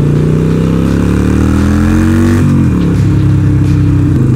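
Loud, close motorcycle engine accelerating hard, its pitch climbing steadily before dropping sharply at a gear change and then pulling again, with a rough, booming exhaust throughout.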